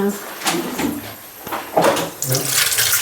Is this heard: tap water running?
yes